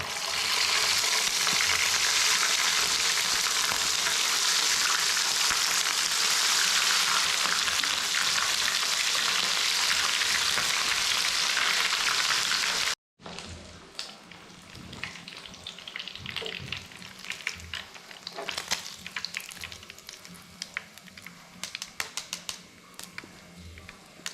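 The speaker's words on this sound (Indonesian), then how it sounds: "terakhir goreng daging empal" Beef empal frying in hot oil, a loud, steady, dense sizzle that runs unbroken, then after a short cut continues as a quieter, crackling sizzle with sharper pops.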